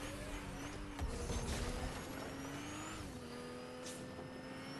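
Car driving in the video game Goose Goose Duck, a steady engine drone that rises and shifts in pitch as it accelerates, with faint tire squeal and a busy, noisy background and no voices.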